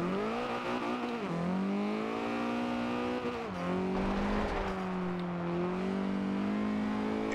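A 1968 Abarth 595 with a 333-horsepower engine revs hard while driving in Forza Horizon 2, its loud, continuous engine note rising and falling through gear changes with tire squeal underneath.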